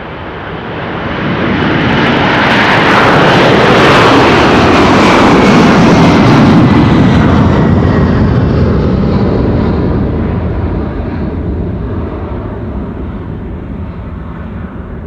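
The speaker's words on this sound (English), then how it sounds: "KLM Cargo going to Johannesburg in South Africa." A KLM Cargo jet airliner, 22 years old, takes off from Amsterdam Schiphol bound for Johannesburg, its engine roar swelling loud and broad, peaking mid-clip, then slowly fading and thinning as it climbs away.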